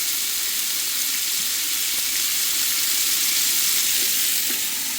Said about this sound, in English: We're not going to saute it for too long.